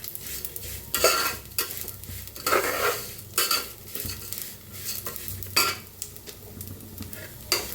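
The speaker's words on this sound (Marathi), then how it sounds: "शेवाळ्या चांगल्या तुपात भाजून घ्यायच्या" Vermicelli roasting in ghee in a pan for kheer, with the spoon stirring and scraping in irregular close bursts over a soft sizzle; no voices.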